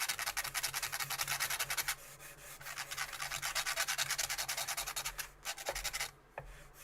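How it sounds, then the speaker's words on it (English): Sandpaper rubs briskly back and forth over a surface in quick, even strokes, close and continuous, with a brief pause partway through and a few knocks near the end. "new piece of sandpaper"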